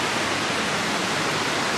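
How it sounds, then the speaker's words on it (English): High waterfall roaring at a roadside stop on a bus trip from British Columbia to Ontario, a loud, dense, unbroken rush of falling water close by, with no talk. "this is the waterfall that we stopped by that was making all the noise last night"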